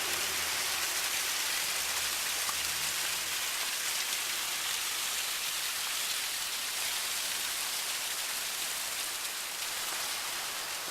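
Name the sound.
landscaped boulder waterfall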